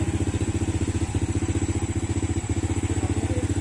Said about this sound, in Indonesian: biar pergi dulu tuh motornya